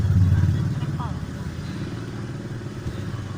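Motorcycles and other vehicles idle and creep through a fully jammed road in Purwokerto, a steady low engine rumble with a louder pass at the start, while people talk nearby.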